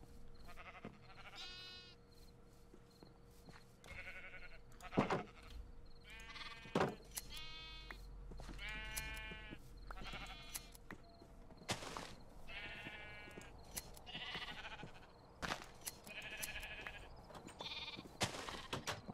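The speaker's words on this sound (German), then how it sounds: "Hallo, hallo, Schaf. Komm mal her." Sheep bleating in the Minecraft video game, a run of repeated short wavering bleats spread through a quiet scene, some overlapping, with clicks and soft game noises between them.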